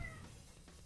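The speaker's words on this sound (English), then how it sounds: "I don't know if you guys could hear, but that was my cat." A pet cat gives a single short meow close by, clear and fairly faint against a quiet room, lasting under a second with no talking.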